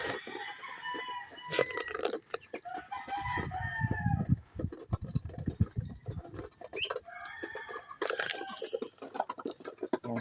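A rooster crows among a flock of ducks at feeding time, several loud cock-a-doodle-doo calls mixed with clucking, flapping and busy farmyard chatter, fairly close.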